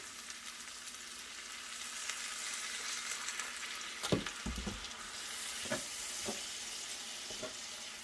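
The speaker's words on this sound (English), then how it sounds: "I'm going to put it right on in the pan and let it heat up, just warm it up in the juices here." Sliced roast beef warms in a pan of meat juices with beef broth, giving a soft, steady sizzle close by, with a few brief stirring knocks and scrapes partway through.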